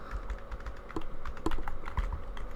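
Close, rapid key clacks come from someone typing on a computer keyboard in an uneven rhythm, with no talk.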